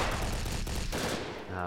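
A heavy cannon fires in the video game Brick Force, rapid booming shots running together into a loud close barrage that cuts off near the end.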